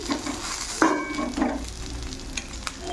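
Raw banana dosa sizzling on a hot pan, a soft steady hiss with a few brief scraping clinks, close and quiet, no talking.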